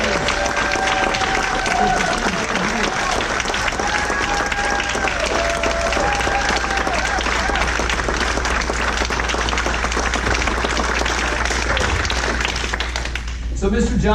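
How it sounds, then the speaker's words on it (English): An audience at an evening gathering gives veterans a sustained round of applause, dense clapping that fills the room for over ten seconds with voices and a few cheers mixed in, then fades out at the end. "We'd love to give you a round of applause."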